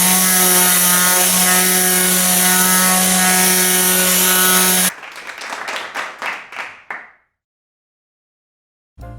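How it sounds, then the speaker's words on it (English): Fine sanding of a roughly 40-year-old block of extra thick maple edge grain during furniture refinishing: a steady, loud motor whine for about five seconds, then a run of short, fading rasping strokes before silence. "I'm just finishing up on the fine sanding of this beautiful block."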